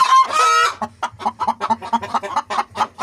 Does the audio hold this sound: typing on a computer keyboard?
no